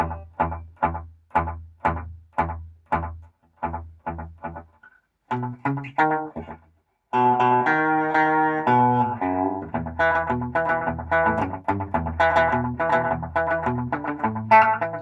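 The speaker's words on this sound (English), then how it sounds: "Of course you want an analog echo to sound like analog, but it's kind of a warm thing" Electric guitar played through an Electro-Harmonix Memory Boy analog delay pedal: a run of short plucked notes, then fuller sustained chords and riffs with a warm repeating echo trailing each note, loud and close with no voices.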